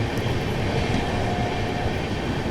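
Gorakhdham Superfast Express runs on rails in the early morning near Delhi, a loud, continuous rumbling roar of wheels and carriages heard from on board, with no talk.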